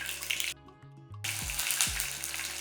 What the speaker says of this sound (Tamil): இதில் ரெண்டு இனுக்கு அளவுக்கு கருவேப்பிலை சேர்த்துக்கலாம்